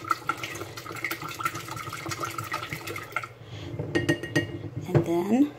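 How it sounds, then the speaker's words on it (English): A spatula stirs sugar to dissolve it in a pot of kombucha brew, making scraping sounds with light clinks and knocks that grow busier and louder toward the end. "So you see how I'm stirring that up and getting it nice and dissolved."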